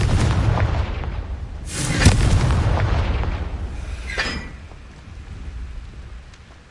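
The Confringo blasting spell explodes in the Hogwarts Legacy video game, giving a heavy booming blast with a rumbling, crackling tail that slowly fades over a steady low background.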